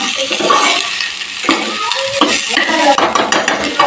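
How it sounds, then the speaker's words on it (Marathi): A large amount of onion is stirred and sautéed in a hot pan for village-style vegetable dishes, a steady loud sizzle with repeated scraping and clinking of a spoon against the pan, close up and without talk. "कांदा छान आता परतून घ्यायचा आहे."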